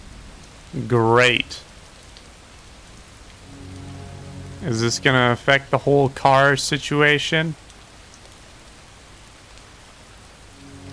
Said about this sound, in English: Oh, is it raining now?